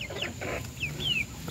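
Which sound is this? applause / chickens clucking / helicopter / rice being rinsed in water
chickens clucking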